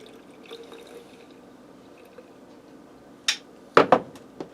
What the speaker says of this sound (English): We're going to rinse the bottle out with the milk.